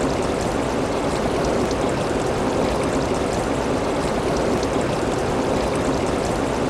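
Water from mountain springs near Lippa village in Himachal Pradesh flows between stones in a steady, loud, close rushing stream with no break and no voices.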